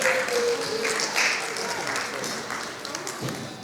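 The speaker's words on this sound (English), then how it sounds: "Clap it up for the volunteers again." Students at a school assembly applaud the volunteers, a steady wash of clapping under chatter and whoops from the crowd.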